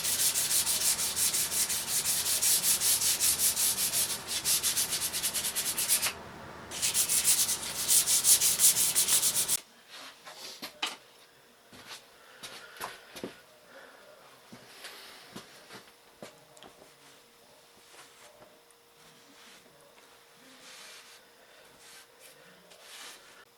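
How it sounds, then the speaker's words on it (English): 220 grit sandpaper rubs briskly over a vintage Plumb axe in loud, rapid scratchy strokes with one short pause, then gives way to softer, sparser rubbing and light taps. "And some 220 grit sandpaper."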